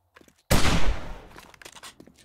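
A sudden loud burst of gunfire in the video game 7 Days to Die erupts after a brief quiet moment, then trails off into scattered softer clatter and echoes.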